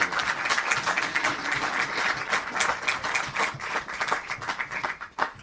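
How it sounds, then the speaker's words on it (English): Warm applause from an audience at a book launch in a Dunnes Stores shop, a sustained patter of many hands with a few sharper claps rising near the end before it tapers off. "that deserves a round of applause"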